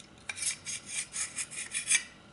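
The metal bolt assembly of a 1986 S.W.D. Cobray M-11/NINE submachine gun scrapes and slides, with about eight short rasping strokes in an even rhythm, close up and fairly quiet, with no voices.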